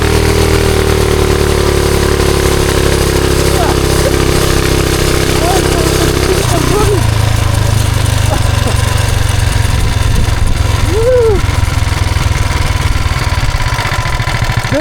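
A 420cc big block engine swapped into a mini bike with a CVT, idling loud and close, then revving higher and pulling away with a shifting engine drone; a voice briefly speaks over it.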